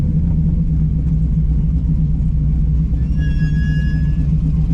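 Brakes on a race car at an autocross event squeal in a thin, high whine lasting about a second, heard at a distance over a constant loud engine and crowd rumble.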